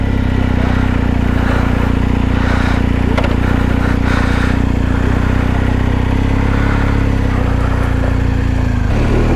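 A BMW R1250GS Adventure with a boxer engine, carrying two riders, running with a steady, loud, close low drone that stays even throughout with no talk.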